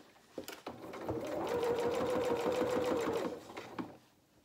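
A sewing machine stitches a dressing gown seam, a steady, close mechanical whirr that speeds up and runs continuously for a few seconds before slowing to a stop, with no talk over it.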